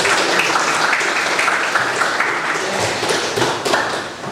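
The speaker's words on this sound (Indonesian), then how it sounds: "Coba tepuk tangan untuk yang tadi menjawab." A class at a vocational school applauds students who answered a question, a dense wash of clapping from many hands that holds steady and then fades slightly at the close.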